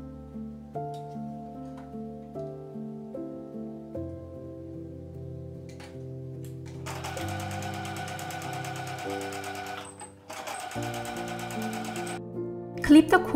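A sewing machine stitching a fabric corner, its rapid mechanical whirring running in two bursts and then again briefly at the end, with quiet music in the background.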